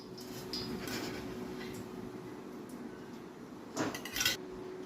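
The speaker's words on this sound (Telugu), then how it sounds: "ముందుగా స్టవ్ ఆన్ చేసుకొని ప్యాన్ పెట్టుకొని ఇప్పుడు దీంట్లోకి 3 టేబుల్ స్పూన్ల ఆయిల్ వేసుకొని" A pan is set on a stove and oil is poured in, with quiet scattered clinks and a couple of sharper metallic clanks near the end over a low background hum.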